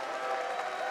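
Brief burst of arena crowd applause for wrestler Luke Hawx during a steel cage match, dense steady clapping with no distinct individual claps.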